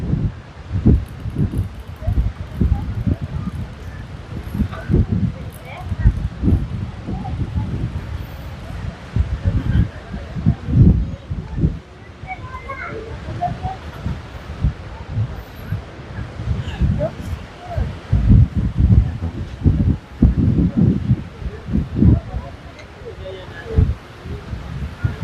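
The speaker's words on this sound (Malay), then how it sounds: "Angin kuat, angin kuat." Strong gusts at a beach campsite on Pantai Sepat, Kuantan buffet the microphone in repeated low, uneven rumbles, with rustling and a voice speaking beneath.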